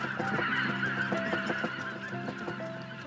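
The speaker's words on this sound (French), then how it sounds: "Les oies sauvages sont déjà de retour." Several wild geese honk repeatedly in overlapping calls, moderately distant, forming an irregular chorus over a steady background.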